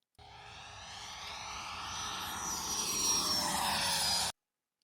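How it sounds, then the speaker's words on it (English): A Freewing de Havilland Venom 90mm RC jet passes by in flight on a windy day, a whooshing ducted-fan whine that swells steadily for about four seconds and then cuts off. "We got the de Havilland Venom out here, 90 millimeter from Freewing."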